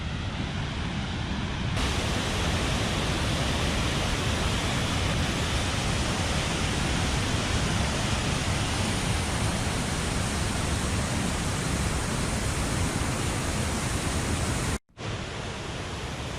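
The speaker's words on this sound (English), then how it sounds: "You can see here how powerful the waterfall is." A powerful waterfall beside a campsite in the Geiranger fjord area of Norway roars as a dense, steady rush of water, loud and unbroken, with a brief cut near the end.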